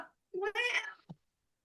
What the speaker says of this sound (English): What kind of cat is he? He is a mackerel tabby.